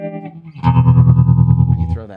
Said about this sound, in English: So now you're combining tremolo with phase in the phaser pedal.